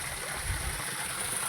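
Water rushing at a village waterfall, a steady broadband roar heard continuously without a break.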